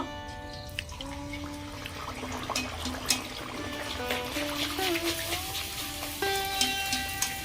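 Stuffed pea kochuris (radhaballavi) bubble and crackle in hot oil in a kadai, a close, continuous sizzle with scattered pops and spatters over a faint steady background tone, no talking.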